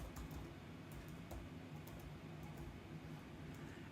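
Typing on a computer keyboard while entering a word into the Obsidian note-taking app, with quick soft key taps in an uneven rhythm over a steady background hum.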